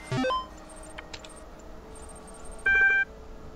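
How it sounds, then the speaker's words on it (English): A beeping device in the video game The Talos Principle gives two short electronic tone bursts, one at the start and one near the end, with faint chimes in between. "this thing's beeping at us"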